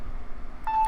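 Mobile phone tone ringing out in a classroom, a single steady electronic beep that starts partway through and holds to the end over a murmur of room noise.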